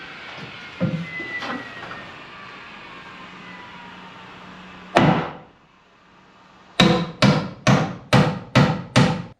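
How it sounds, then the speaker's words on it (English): Nails are driven into a new stair platform in an 1860s cottage, with one sharp, echoing hammer blow followed by a run of six loud, evenly spaced strikes close by, after softer knocks and room noise. "driving those nails was a little goofy maybe, but it's nice to swing the hammer once in a while"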